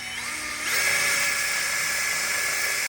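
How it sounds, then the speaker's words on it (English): A power drill bores holes through a 9th-gen Honda Civic Si engine bay for an AC tuck kit, a steady high whine starting after a brief quieter lead-in and running continuously close by. "right now we drilling our holes for the AC tuck kit."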